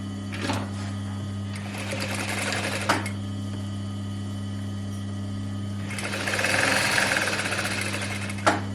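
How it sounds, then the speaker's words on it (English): A sewing machine stitches along a vest seam in short runs, with a steady motor hum beneath, brief pauses between bursts and a longer, louder run near the end. "I'm going to stitch all the way along to the other front"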